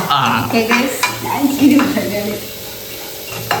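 Food frying in a pan while payasam is made for a cooking contest: a steady sizzle with stirring scrapes sits under and between people talking nearby.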